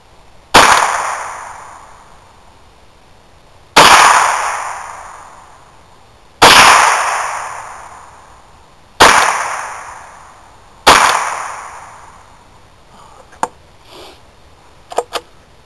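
Five sharp rifle shots from a .22 Henry AR-7 survival rifle, evenly spaced a few seconds apart, each loud and close with a quick ringing decay, followed by a few faint clicks and handling noises.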